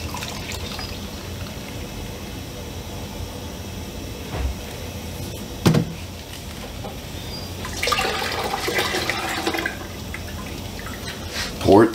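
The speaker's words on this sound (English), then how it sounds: "Pour it through the strainer." Liquid lawn fertilizer mix is poured through a strainer, giving a splashing, trickling pour of a few seconds in the latter half, with quieter handling noises before it.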